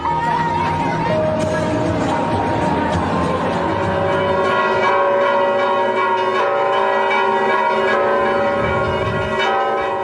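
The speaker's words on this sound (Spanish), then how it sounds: "Al día siguiente todos despiertan con el repicar de las campanas." Church bells peal steadily over a lively crowd murmur on a mid-August feast-day morning on an island in the northern Cyclades, Greece, with people chattering close by throughout.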